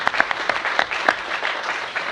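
A brief burst of audience applause at a government commission meeting, close and fairly loud, with distinct individual claps spiking through the short crowd clapping.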